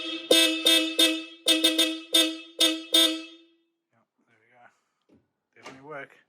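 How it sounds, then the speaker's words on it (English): Hella Supertone horns on a Toyota Land Cruiser 80 series sound a loud series of about seven sharp, two-toned honks in a rhythmic burst, followed by silence and a brief bit of distant talking. "That's how you install the Hella Supertone horns on the Toyota Land Cruiser 80 series."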